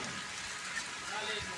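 Heavy rain pours onto a rooftop in Khadriala, Sarai Alamgir, during a pigeon-flying session: a steady, dense hiss of drops fills the short stretch without pause.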